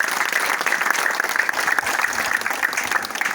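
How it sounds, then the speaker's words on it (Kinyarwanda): Warm, steady applause from a gathered crowd at a Kicukiro sector meeting, honouring the sector executive secretary. Dense, continuous clapping fills the entire short stretch at even strength with no talking. "tumwongera amashyi"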